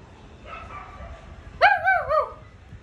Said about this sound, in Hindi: बाहर कोई तो कुत्ता भौंक रहा है